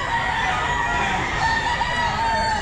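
Several gamecock stags at a busy Grotto pet market crow in overlapping waves, a dense, steady chorus of nearby cock-a-doodle-doos with no one speaking.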